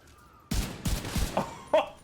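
Burst of gunfire in The Division 2, several sharp shots in quick succession around a half-second pause, loud and close, with a brief tonal game cue near the end.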